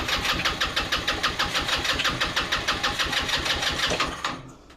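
A scooter engine cranks and catches, running in fast rhythmic chugging pulses for about four seconds before cutting out abruptly; loud and close, with no talk over it.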